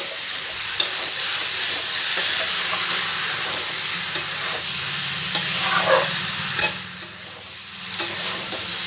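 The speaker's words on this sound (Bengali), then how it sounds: "ভালো করে একটু নাড়াচাড়া করে দেবো।" Mixed vegetables for a Bengali vegetarian dish stirred in a hot cooking pan: loud continuous sizzle with scraping strokes of a spoon and occasional sharper knocks against the pan.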